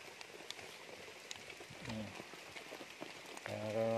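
Steady rain patters on a surface at a mountain farm, a continuous soft hiss with scattered drops, while a voice speaks briefly in the background.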